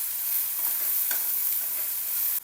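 Chopped tomato with ginger-garlic paste, turmeric and salt sizzles in a pan while being stirred, a steady close frying hiss with light scraping and no voices.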